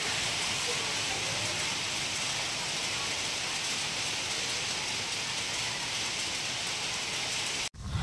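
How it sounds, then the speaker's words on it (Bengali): A sudden downpour with hail pounds down steadily and loudly, a dense continuous roar of drops close by that cuts off abruptly near the end. "হঠাৎ বৃষ্টি শুরু হয়ে গেল, সেই সাথে শিলাবৃষ্টি।"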